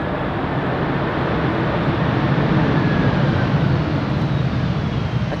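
An airliner's thrust reversers roaring on landing at Amsterdam Schiphol Airport on a crosswindy day, a broad, steady, distant rush of engine noise sustained evenly throughout with no voices.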